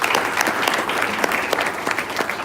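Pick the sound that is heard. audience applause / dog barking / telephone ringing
audience applause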